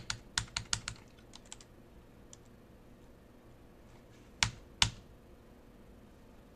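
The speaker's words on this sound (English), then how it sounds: "is that the keyboard doesn't really work." Quiet computer keyboard typing on a Haiku system: a quick burst of several key clicks at the start, a few faint taps, then two sharper keystrokes later, with near silence between.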